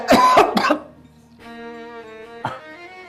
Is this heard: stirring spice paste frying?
no